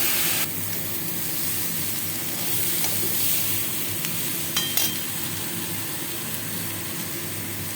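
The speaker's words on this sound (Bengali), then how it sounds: "আমি এটা ঢাকা দিয়ে ভাজবো" Potato and pointed gourd frying under a lid in a covered pan, a steady soft sizzle holding evenly throughout with a couple of faint clicks, no voices.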